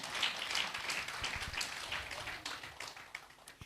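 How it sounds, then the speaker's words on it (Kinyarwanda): A church congregation claps for the Lord in rapid, scattered applause, moderately faint and steady throughout, with no voice on top. "Clap for the Lord."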